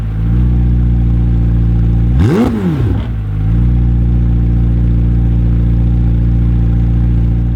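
A 2021 McLaren 765LT's 4-liter V8 idles steadily through four upward-pointing exhaust pipes, then snaps into one sharp, loud rev that rises and falls before settling back to the even idle.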